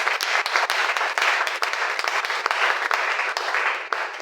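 A church congregation claps and applauds for the Lord at a French-language evangelism sermon, steady dense clapping with sharper individual claps popping out, loud and sustained throughout.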